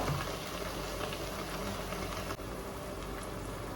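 A pan of vegetable thoran simmers quietly as its water cooks off, with a soft, steady bubbling and sizzle, close by and without any talking.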